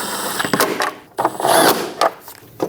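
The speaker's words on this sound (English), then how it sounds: "Snug down all of the nuts. Just get them nice and snug." Nuts being snugged down on the fuel tank shield of a 2011 Dodge Durango 5.7L V8, heard as close, loud bursts of ratcheting and mechanical clicking with short pauses between them and no talking.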